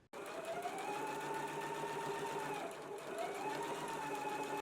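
Steady, continuous whir of a sewing machine running a 5/8-inch seam across a skirt placket, close and even, with a brief dip in motor pitch partway through and no voices.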